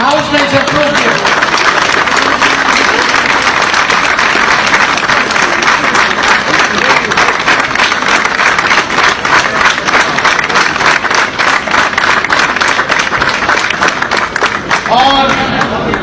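Loud, sustained applause and cheering from an audience at a political speech or rally, dense clapping filling the space with crowd noise and some voices mixed in, continuing for about sixteen seconds before thinning slightly near the end.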